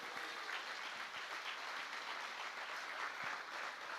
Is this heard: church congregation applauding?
yes